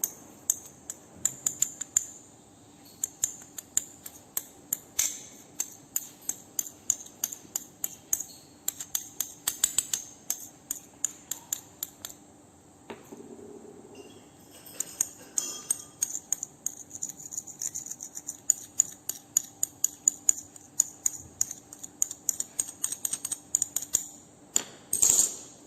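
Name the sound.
phthalic anhydride and urea ground together with pestle and mortar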